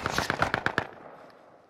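Enemy squad gunfire in Call of Duty: Modern Warfare rings out as a quick burst of about seven sharp, evenly spaced shots, fairly close, then echoes away into quiet.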